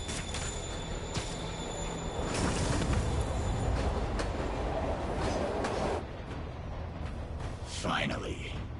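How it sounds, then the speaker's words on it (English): A train moving in a video game, a steady rumbling rail roar with clacking and brief squeals, loud throughout and easing near the end, with speech over it. "Train's moving."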